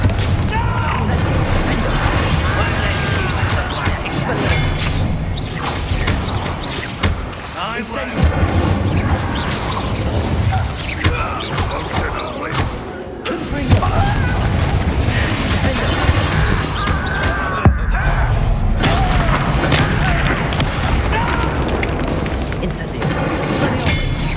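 A Confringo blasting curse erupts in Hogwarts Legacy, loud booming explosions and crashing impacts rolling continuously through a dense, heavy battle soundscape, with voices speaking amid the blasts.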